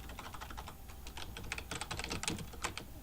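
Rapid keyboard typing while lecture notes are taken, a run of light, close clicks in irregular bursts that get busier toward the end, with no talk.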